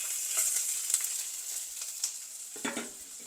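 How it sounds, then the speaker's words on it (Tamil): Capsicum, onion and ginger garlic paste fry in a pan as part of a sweet chili chicken dish, giving a steady hiss with soft stirring scrapes and a few louder clatters near the end. "இந்த ஷேப்பில் கேப்சிகம் எல்லாம் சேர்க்குறேன்."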